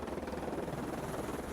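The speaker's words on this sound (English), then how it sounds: "There's a chopper behind me, isn't there?" A helicopter on a film location shoot drones steadily at a distance, a continuous rotor rumble with no one speaking.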